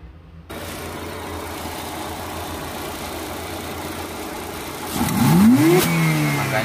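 A modified Chevrolet Blazer engine fitted with a supercharger idles steadily, then revs hard to high RPM near the end, its pitch sweeping upward in a loud rising whine before dropping back.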